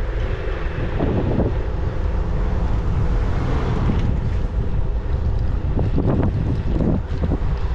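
EMOVE Cruiser electric scooter riding at about 28 mph, heard as a steady, loud rush of wind buffeting the microphone with a low road rumble throughout and no talking.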